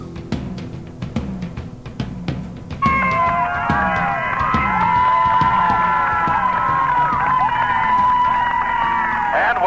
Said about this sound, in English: You hear the Ram fans cheering.